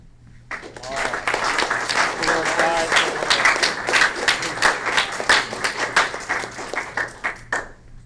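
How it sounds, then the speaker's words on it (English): Applause from an audience at a Boy Scout troop court of honor, starting about half a second in and running steadily for several seconds with dense, loud clapping, then fading near the end. "Round of applause."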